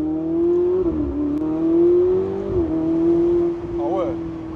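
A warm Ferrari 488 engine holds a steady, loud drone with a couple of gentle rises in revs, heard from inside or beside the car, with a brief voice near the end.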